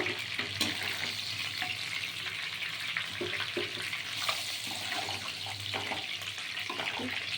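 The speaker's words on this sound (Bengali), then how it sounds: "এই মাছ ভাজা হয়ে গেছে হ্যাঁ দেখুন ঠিক এরকম করে ভাজা হবে" Fish sizzles continuously in oil in a pan, with occasional scraping and clinking of utensils, close and fairly quiet, no talking.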